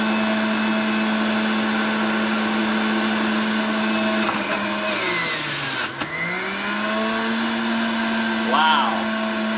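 Breville juicer running on high speed as a cucumber is fed through, giving a loud, steady motor whine that dips and strains partway through before recovering, with no talking.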